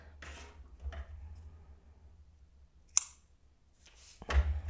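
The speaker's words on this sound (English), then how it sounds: "So cut the yarn" Scissors snip through yarn while finishing a crocheted amigurumi bride's hair piece, giving a couple of quiet, sharp clicks against a hushed room.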